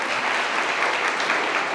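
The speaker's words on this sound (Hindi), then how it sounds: "चलिए बड़ी तालियां हो आपके पीके सर के लिए।" A brief, dense burst of applause rises from an audience at S.K. Classes, a coaching institute in Rath, Uttar Pradesh. The crowd claps for a teacher, loud and even throughout, with no talking.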